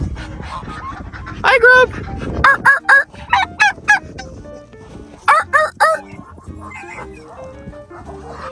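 Backyard flock calling in snow, including Sebastopol geese, with loud close honks and harsh gobble-like calls arriving in clustered bursts among other fowl, while a person greets them briefly over the noise.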